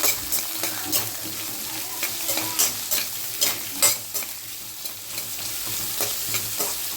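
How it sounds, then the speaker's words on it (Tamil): Chopped onions, green chilies and curry leaves sauté in a pan for a sardine curry, a steady sizzle broken by several loud scraping stirs of a spatula at irregular intervals, no talking. "ரெண்டு பெரிய வெங்காயம் சின்ன சின்னதாக கட் பண்ணி வச்சுருக்கேன் அப்படின்னு போட்டுக்கலாம் நல்லா வதக்கிக்கலாம்"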